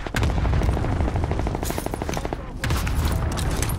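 Call of Duty: Modern Warfare combat with rapid automatic gunfire in a fast, steady rhythm, loud and close, and a heavy boom near the end, with voices underneath.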